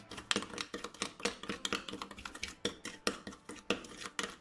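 A spoon scrapes and clinks rhythmically in a bowl as a sugar lip scrub mixture is stirred to dissolve the sugar, a close series of quick, fairly soft metallic taps and scrapes with no voices.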